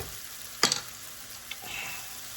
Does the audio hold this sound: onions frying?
yes